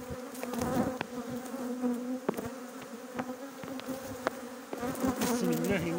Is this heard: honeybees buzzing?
yes